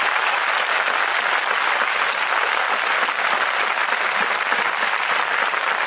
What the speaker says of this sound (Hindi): एक बार ऊपर ताली बजाएंगे यीशु जी के लिए।